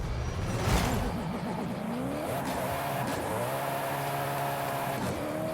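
Koenigsegg One:1 hypercar racing in Forza Horizon 5, its engine note rising and falling through gear changes with tire squeal and skidding through corners, loud and continuous with no talk.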